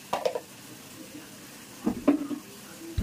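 Dried red chillies and spices frying in oil in a home kitchen, a low background sizzle with a few soft stirring clinks and scrapes scattered through.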